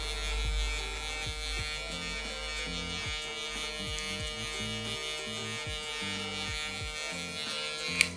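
An electric hair clipper hums steadily while cutting a man's hair, a close continuous buzz with small shifts in pitch as it moves through the hair.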